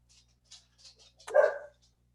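A dog gives a single close bark after a few soft faint sounds, short and sharp against an otherwise quiet indoor background with a low hum.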